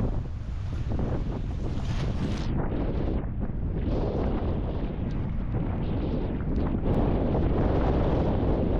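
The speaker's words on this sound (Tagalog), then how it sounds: "Sobrang lakas ng hangin" Strong wind roars steadily against the microphone on a boat near El Nido, Philippines, during a storm with rain, mixed with rushing water and engine-like rumble, loud and continuous with no talking.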